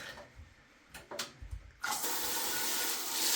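Warm water runs from a tap into a container, a steady broadband rush that starts abruptly after a few faint knocks and clicks and continues loud and even to the end, with no talking.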